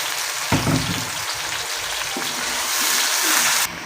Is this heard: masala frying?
yes